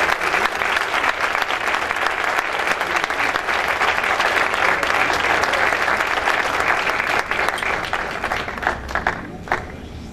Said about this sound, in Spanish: Un fuerte aplauso para Ternium de México